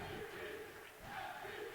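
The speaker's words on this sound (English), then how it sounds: "As the crowd rises and chants MVP" A basketball crowd at a women's college game rises and chants in unison, a dense roar of many voices, fairly distant and sustained.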